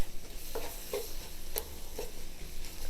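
A roux sizzles gently in a skillet while a utensil stirs it with a few distinct scraping strokes, close and fairly quiet, with no talking.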